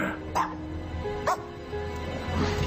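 A dog barks and whimpers in an action-film scene, with short yips and whiny cries spaced out over a low background hum and music.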